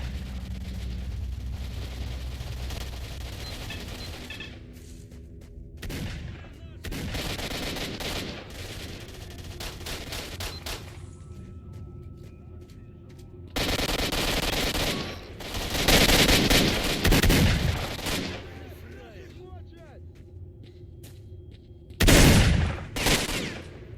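Gunfire rings out in S.T.A.L.K.E.R. Shadow of Chernobyl around a camp, with sporadic bursts and automatic volleys that are distant at first and then sharper and louder in separate clusters, over a quiet ambient background.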